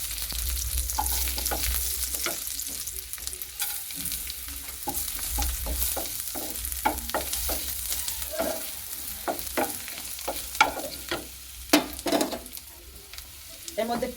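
Garlic, whole garam masala and black pepper fry in butter in a kadai, a steady bright sizzle with scraping stirring strokes that grow sharper and louder toward the end.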